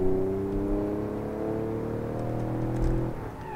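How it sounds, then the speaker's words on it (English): A small car engine in the BeamNG driving game revs steadily, a droning hum with rising harmonics that holds for a few seconds, then a brief throttle blip before it settles. "that's a small engine, Joel."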